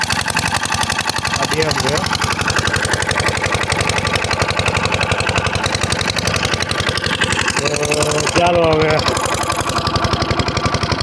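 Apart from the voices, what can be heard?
running engine-driven farm water pump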